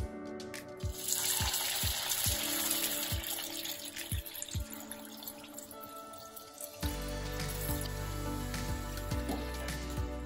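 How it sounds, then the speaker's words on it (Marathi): Moong dal rolls deep-frying in hot oil, with a steady crackling fizz, scattered pops and drips, and a louder bubbling surge partway through as more rolls go in. "आता हे तेलात तळून घ्यायचे."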